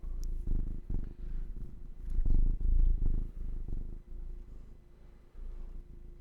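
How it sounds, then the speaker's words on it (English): A cat purrs loudly and close up in a steady rhythmic rumble, each breath cycle swelling and fading. "He's a loud purrer."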